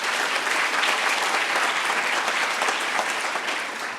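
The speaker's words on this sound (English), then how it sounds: "So let's give them all a big round of applause." An audience at a closing session of a general meeting claps in a steady, dense round of applause that holds at an even loudness throughout, with no voices rising above it.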